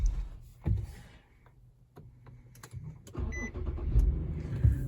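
An Infiniti QX70 engine cranks with sharp clicks and a whir, then catches and keeps running with a low, steady rumble nearby.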